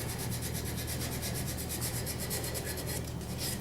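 Sandpaper rubs against a solid wooden carving of a female form turning on a lathe, a steady, continuous abrasive hiss with a fast rhythmic pulsing from the spinning piece, close and even throughout.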